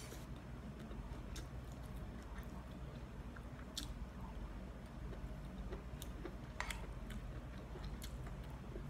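Close, quiet chewing and soft crunching bites while eating stir-fried mushrooms with rice, sporadic clicks and munches over a hushed background with no talk.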